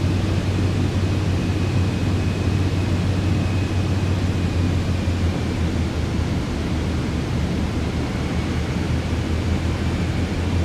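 Steady broadband cockpit drone of a Vision Jet cruising in Microsoft Flight Simulator 2024, a continuous even roar with a low hum underneath, no talk and no change across the stretch.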